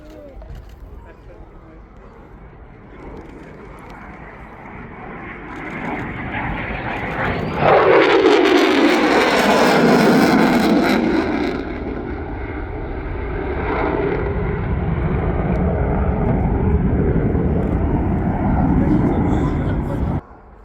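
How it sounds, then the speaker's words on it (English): A large aircraft passes at an airshow, its engine roar swelling loud and close before easing into a sustained drone, while a commentator talks over it on a public address. "the aircraft slowing down and expecting that big door on the back of the aircraft to be opening"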